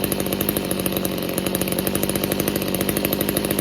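A Tanaka weedeater's small two-stroke engine runs steadily at idle, a loud, close, continuous buzzing drone with a fast regular pulse and no talking.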